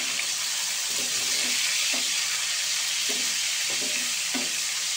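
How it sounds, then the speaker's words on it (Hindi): Chicken with spices fries in ghee, giving a constant loud sizzling hiss punctuated by several soft stirring knocks and scrapes in the pan, close up and free of speech. "ये हमारा चिकन फ्राई हो रहा है।"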